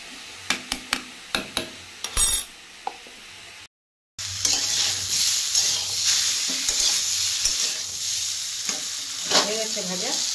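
Ingredients for shukto frying in a pan, a loud steady sizzle after a few sharp knocks and clatters, with stirring throughout.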